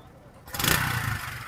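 A motorcycle at a Karachi used-bike market is revved with a short twist of the accelerator, its engine note jumping up loudly after a quiet start and holding steady with a rough, rumbling tone.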